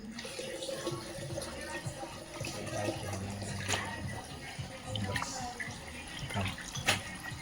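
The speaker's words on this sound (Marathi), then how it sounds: "चिकन व्यवस्थित 2 पाण्यानं धुवून काढायचं आहे" Water splashes and trickles in a basin while raw chicken is rinsed by hand, with soft sloshing, occasional drips and clinks, fairly close and quiet.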